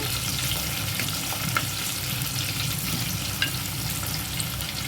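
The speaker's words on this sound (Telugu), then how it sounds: "ఇవన్నీ బాగా వేగిపోయాక తాలింపు అయితే పెట్టేసుకోవచ్చు" Tempering spices sizzle in hot oil for moong dal pappu charu, a steady close frying crackle with occasional sharper pops and stirring, no voices.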